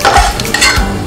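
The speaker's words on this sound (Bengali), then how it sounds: "দিয়ে আমি আবার ভালো করে নাড়াচাড়া করব" A spoon scrapes and clatters against a pan while stirring a drying filling for fried fingers over low gas, a loud, close burst of a few scraping strokes lasting about a second.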